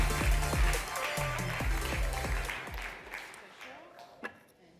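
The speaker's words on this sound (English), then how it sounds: "Did you hear this? There was applause." Audience applause at the ITB 2024 tourism conference, a broad wash of clapping mixed with a low voice and tones, fading out toward the end.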